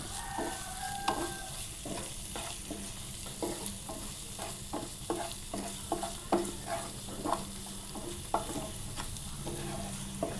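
Salt and chopped tomato stirred and fried in a pan, with a continuous sizzle and repeated scraping stir strokes in an uneven rhythm across the whole stretch, close by and without speech.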